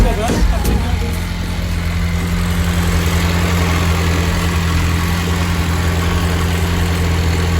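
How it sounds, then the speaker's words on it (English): A Nissan 1400 car engine idles roughly with a shuddering vibration, a loud, steady low rumble heard close up after a brief clank at the start, with a voice present. "So the engine is shuddering and whatever"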